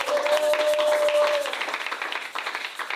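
A church congregation claps steadily to acclaim the king of glory, dense continuous clapping with voices mixed in and a sustained sung or shouted tone at the start.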